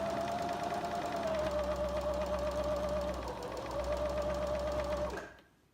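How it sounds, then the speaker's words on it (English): A sewing machine stitching flax seed pillows runs steadily at close range, a continuous whirring hum with a fast mechanical rhythm for about five seconds before stopping. "So now we are going to be sewing them."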